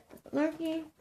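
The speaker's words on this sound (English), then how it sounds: "that's my dog whining, sorry." A pet dog whines indoors, a short high-pitched nasal whimper rising and holding briefly, close by, with a voice speaking just before it.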